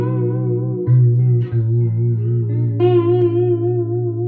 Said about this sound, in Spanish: Ese es un phaser que la verdad no tengo ni idea de cómo se usa.